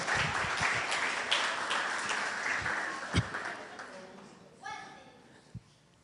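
A church congregation breaks into applause, loud and thick at first before thinning and fading out, while a preacher's voice carries on over it and a few scattered claps linger at the end.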